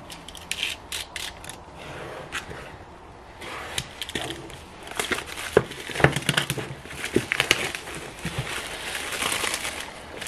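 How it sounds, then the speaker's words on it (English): New H11 headlight bulbs for a Ford F150 are unboxed close up, with packaging crinkling, rustling and clicking in irregular bursts that grow busier and louder toward the end. "let's get the new bulbs unboxed and get the new one in"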